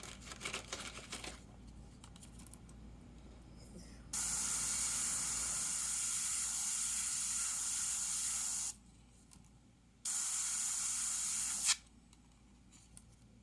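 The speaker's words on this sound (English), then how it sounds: "Even by spraying another color over it." Two long hissing bursts from an aerosol spray paint can onto a painting of a Mustang hood, close up, the first about four seconds and the second shorter, with quiet pauses around them.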